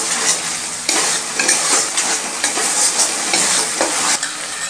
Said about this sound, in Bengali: আর একটু মশলাটাকে আমি কষিয়ে নিচ্ছি।